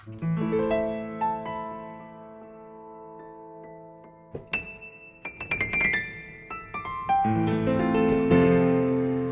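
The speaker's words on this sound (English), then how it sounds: "Really beautiful piano." Solo piano plays slow, ringing chords and a gentle melody, notes sustaining and fading, with a brighter, busier flourish in the middle.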